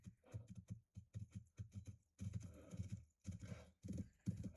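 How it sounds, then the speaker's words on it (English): A horse gallops in a video game, its hooves sounding as quick, rhythmic clip-clop bursts that pause briefly and resume, close and fairly loud, with occasional neighs and no talking. "This horse is like naturally fast."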